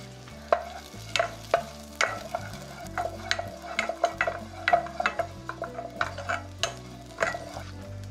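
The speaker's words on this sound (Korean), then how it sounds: "버터가 녹으면 당근을 넣고 20초에서 30초간 볶아주세요" Carrots sautéing in melted butter in a pan during steak preparation, a soft sizzle under repeated close spatula clacks and scrapes against the pan in an uneven stirring rhythm, with no talking.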